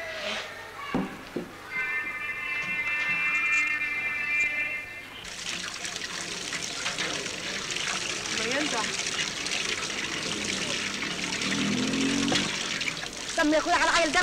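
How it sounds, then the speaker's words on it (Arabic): Water is splashed in a sudden gushing wash that carries on for several seconds. People talk before and during the splashing. "لما صفحت الميه"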